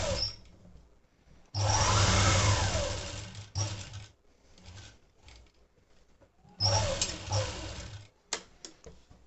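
A sewing machine runs close by while stitching a blouse lining to the original fabric, giving loud whirring bursts of about two and a half seconds each, broken by short stop-start runs and quiet gaps.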